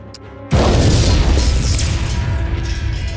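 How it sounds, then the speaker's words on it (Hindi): A sudden loud boom from a lab explosion bursts in and rolls into a long, heavy roaring rumble that slowly fades. "भयंकर विस्फोट हुआ"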